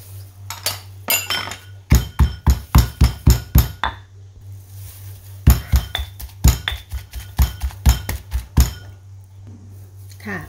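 A pestle pounds Thai shrimp paste chili dip in a mortar, with bursts of sharp rhythmic knocks in quick runs broken by short pauses, over a low steady hum.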